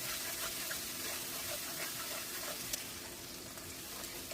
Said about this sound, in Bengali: আর বাটা মশলাটা দিয়ে এবার ভালো করে তেলে কষবো।